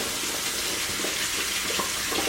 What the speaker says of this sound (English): I'm going to get some warm water going so I can soak the brush